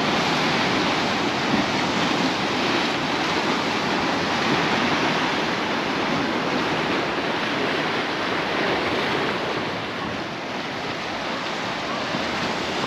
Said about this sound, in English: the waves are crashing a little bit against the rocks